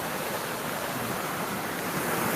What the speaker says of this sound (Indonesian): Ini ada sungai yang sangat deras sekali.